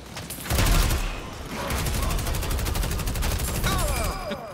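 Rapid gunfire bursts in the hero shooter Deadlock by Valve, loud and sustained over roughly four seconds with overlapping shots and brief faint voices in the mix.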